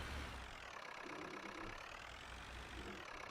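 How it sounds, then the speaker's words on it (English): A tractor engine idles in Farming Simulator 19, a steady low mechanical drone with a faint rhythmic knock running unchanged throughout, fairly quiet and with no talking. "Because I know this tractor can be incredibly loud"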